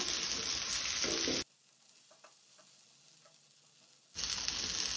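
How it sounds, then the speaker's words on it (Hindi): Stuffed clams fry in oil in a pan over a medium flame, giving a loud, steady sizzle that drops away for a few seconds and then returns at full strength. "तिसऱ्यो आता परतून घेवया।"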